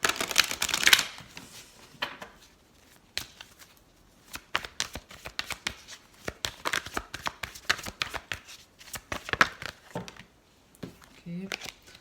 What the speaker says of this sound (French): On va mélanger rapidement le jeu.